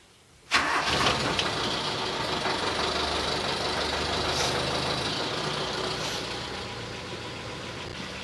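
A car engine with a weak, poorly maintained battery cranks and fires at once, then settles into a steady, loud idle heard up close for several seconds.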